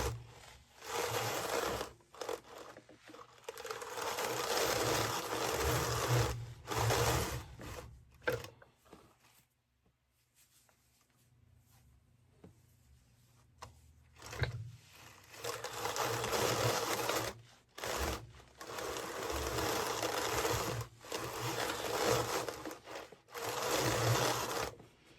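Drum carder blending teal, green, blue and yellow fiber, a loud rasping, whirring brush of carding cloth that runs in long bursts, pauses almost to silence midway, then resumes steadily.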